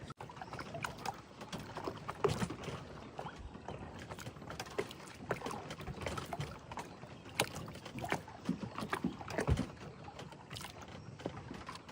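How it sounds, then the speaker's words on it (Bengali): A fishing boat runs at full speed over open water with a continuous rushing wash of splashes and wind, fairly faint and without voices. "নৌকা এখন হ্যাঁ ফুল হাওয়া ছিঁড়ে বেরোচ্ছে।"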